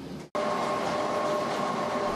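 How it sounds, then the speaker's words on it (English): After a brief cut, a vintage passenger train departing in Da Lat, Vietnam makes a steady rumbling noise that fills the clip, with a faint sustained whistle-like tone over the continuous rolling sound. "As the 2 p.m. train departed with its crowd of happy passengers"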